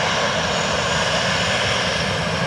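An airliner landing on runway 28 left at Dublin Airport gives a steady, loud engine roar heard from close by, with no voices over it.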